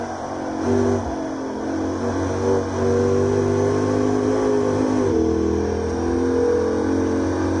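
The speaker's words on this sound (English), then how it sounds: "And the engine sounds really good." The engine of a Lexus IS F revs in the racing game Assetto Corsa. It gives a loud, continuous drone with pitch swells and dips near the start and again around the middle, and no talking can be heard over it.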